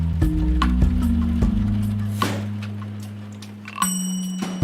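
Soft, mellow electric keys loop from the Omens Drumkit instrument pack plays sustained chords that change a few times, with faint ticking percussion layered on top.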